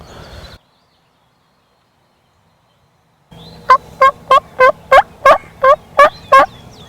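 Wild turkeys gobble in a field, soft, relaxed calls. A few seconds of near silence lead into a rapid run of about ten gobble pulses, fairly near and clear, over a low background hum.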